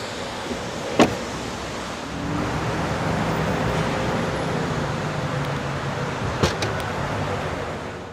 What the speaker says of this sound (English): The GLA comes standard with a power liftgate